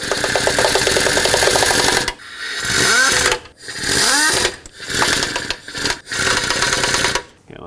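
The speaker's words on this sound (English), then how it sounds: "I'm going very slow with my air gun." Air impact gun run slowly, snugging timing cover bolts on a 1997-2003 Ford F-150 5.4L two-valve engine: several short, loud rattling bursts of a couple of seconds each, separated by brief pauses, close up with no talk.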